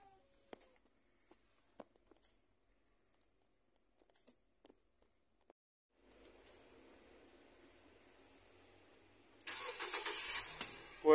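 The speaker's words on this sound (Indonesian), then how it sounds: "Gue hidupin lagi mobilnya." A Nissan Evalia engine is started from silence near the end: faint clicks and quiet ambience first, then a low mechanical hum, then a loud crank-and-catch roar closing the sequence, with no talk.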